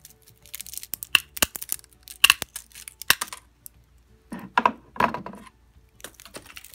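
Scissors cutting through a cattail stem for a spring floral arrangement: several crisp, close snips and clicks in short, uneven bursts, with quiet pauses between them.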